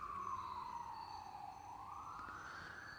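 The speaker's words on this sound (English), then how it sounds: "I guess we're not far enough away to get away from sirens either." An emergency vehicle siren wails in the distance at night near a Kentucky state forest campsite, its faint tone sliding down and then rising again.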